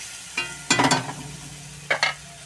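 A spatula scrapes briefly a few times through spice paste of cumin powder, coriander powder and salt frying in oil for Bengali rui fish kalia, with close, quick stirring bursts over a faint low hiss.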